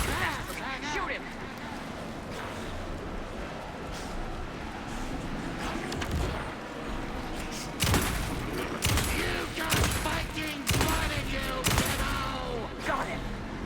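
Rapid bursts of gunfire in the horror video game Alan Wake 2, sharp repeated shots clustering in volleys, heavier near the end, over a busy game soundscape with voices.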